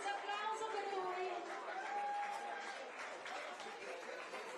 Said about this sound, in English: Come on, clap your hands, applauso per lui.